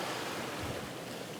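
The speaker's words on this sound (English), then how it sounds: "quite spectacular waves coming in now" Sea waves surge against the coast near an ancient Scottish castle, a broad, rushing wash of surf mixed with wind buffeting the microphone, steady and close with no talk.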